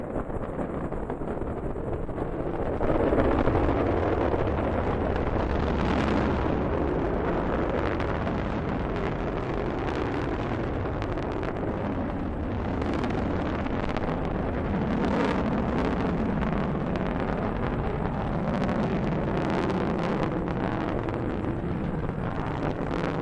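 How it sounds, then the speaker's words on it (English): A Delta rocket lifts off carrying the GLAST gamma-ray telescope, producing a continuous, loud, broad roar with crackling bursts and heavy wind buffeting that holds steady throughout. "Liftoff of the Delta rocket carrying GLAST, a gamma-ray telescope searching for unseen physics in the stars of the galaxies."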